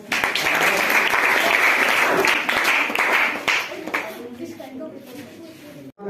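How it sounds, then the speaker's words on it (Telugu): Loud, sustained applause from a gathered staff at a farewell honouring a transferred junior college principal, dense clapping for about four seconds before thinning out and fading toward the end. "సరే గట్టిగా క్లాప్స్"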